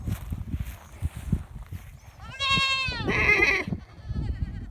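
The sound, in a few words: herd of goats bleating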